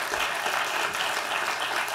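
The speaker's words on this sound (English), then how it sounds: "Give her a round of applause." An audience at a public address applauds, a steady wash of many hands clapping at moderate distance throughout the brief moment.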